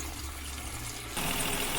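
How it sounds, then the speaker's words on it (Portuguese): Water is splashed onto a squealing engine belt at first start, a constant wet hiss and running-engine noise that jumps louder and brighter partway through. "coloca a água em cima da correia, joga em cima da correia"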